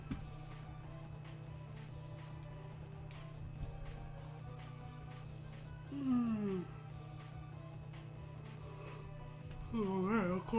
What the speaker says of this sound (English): I can't stop yawning even with my bottles of water